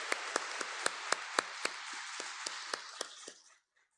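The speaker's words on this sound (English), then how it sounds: "let's give them a round of applause" A small crowd at a school's back-to-school night claps in a light round of applause for new staff, with sharp, evenly spaced claps that thin out and stop after about three and a half seconds.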